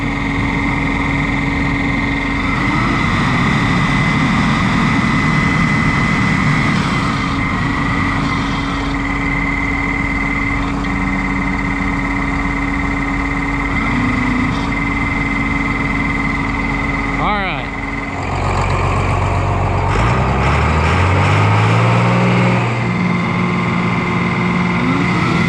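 Oliver 1855 tractor engine running and revving during hydraulics work, a loud, steady close-up rumble that shifts mid-way as the revs change and climb toward the end, with speech heard over it.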